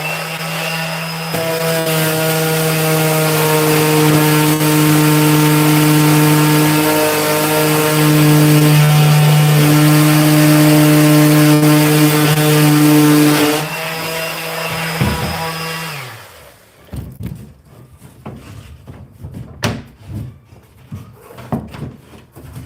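A power sander drones steadily on wood for about thirteen seconds, loud and close, then winds down and stops, leaving scattered handling knocks.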